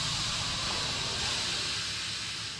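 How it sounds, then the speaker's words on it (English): Steam hisses continuously in the horror game Outlast, a loud, even, breathy rush that holds steady throughout without a break. "Steam."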